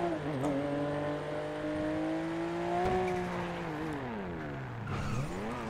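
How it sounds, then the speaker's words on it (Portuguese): A loud car revs and accelerates close by, its engine pitch rising and falling in several sweeping surges over a few seconds, heard without talking. "Esse carro faz muito barulho, ó."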